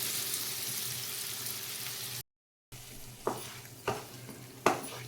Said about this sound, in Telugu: మన తాలింపు రెడీ అయిపోయింది. అందులో మనం కలిపించుకున్న పచ్చడి వేసేయాలి.